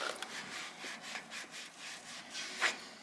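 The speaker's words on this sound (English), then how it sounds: "Clean the spindle." Scrubbing and rasping on a trailer wheel spindle during a bearing replacement, heard as repeated close strokes of rubbing or filing with a brief sharper scrape near the end.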